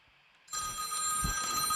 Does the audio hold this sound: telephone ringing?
yes